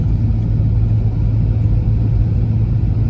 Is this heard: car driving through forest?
yes